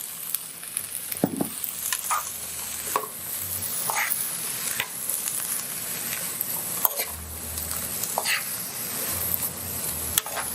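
Pre-cooked black beans tumble into a hot frying mixture and sizzle steadily, a close hissing fry broken by scraping stirs and light clatter of a utensil against the pan at irregular intervals.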